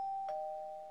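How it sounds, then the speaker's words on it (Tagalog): A Minecraft doorbell gives a single short ding-dong chime, a thin steady tone with a brief bright strike partway through, quiet and alone. "Tapos maglalagay ako ngayon dito ng ano? Doorbell! Ding-dong!"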